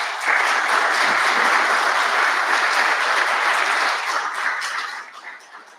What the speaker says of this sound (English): give the lads a big round of applause there